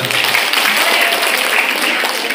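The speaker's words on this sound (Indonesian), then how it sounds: "Tepuk tangan dong buat anak bangsa." Applause from an audience at a regular meeting of kindergarten and early-childhood teachers, a steady dense clapping that stays loud and even throughout.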